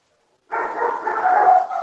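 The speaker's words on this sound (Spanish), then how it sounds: "alguien tiene un perrito que le está ladrando" A small dog barks in a steady, close burst lasting over a second, heard through an online meeting microphone after a moment of silence.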